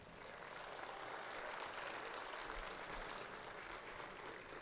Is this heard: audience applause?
yes